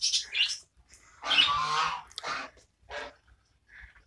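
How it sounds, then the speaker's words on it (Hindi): Parrots kept at a village home in Sargodha, Pakistan, give loud, harsh squawks in several separate bursts, close by, with short quiet gaps between calls. "ये तोते हैं"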